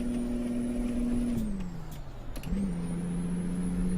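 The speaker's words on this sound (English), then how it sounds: "you can hear the turbo on this truck a lot with this particular engine" Peterbilt 389 truck engine with a prominent turbo whine in American Truck Simulator, a steady engine drone whose pitch dips, drops off briefly, then returns, with brief hiss bursts between.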